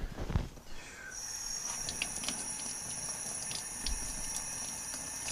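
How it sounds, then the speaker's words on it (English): A hot welded steel part for a rotary welding table is held under running water, giving a steady hiss and rushing splash with a few sizzling bursts, close and moderately loud, no talking. "Throw it under some water. Cool it down so I can handle this thing."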